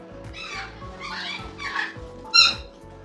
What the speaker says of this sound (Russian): Собака зашла в гости